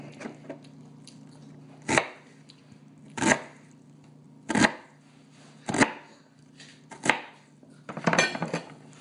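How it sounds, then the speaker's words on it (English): Vegetables for Thanksgiving stuffing chopped on a board with a knife, six or seven sharp separate chops spaced a second or so apart, fairly close, over a steady low hum with no talk. "preparing the vegetables to go into the stuffing."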